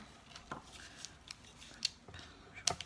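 Scissors snip through card stock for a handmade shaker card, giving about five short, crisp cuts spaced unevenly and heard fairly close in a quiet room.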